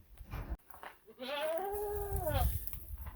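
A goat, penned with pigs on an off-grid high-desert homestead in Arizona, lets out one drawn-out, wavering bleat up close, with some rustling and thumps around it and no talk.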